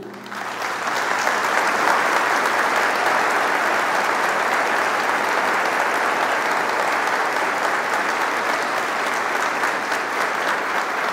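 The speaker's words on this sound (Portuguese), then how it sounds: "Pode aplaudir." Sustained applause from a large church audience, steady and dense clapping that keeps going strong throughout.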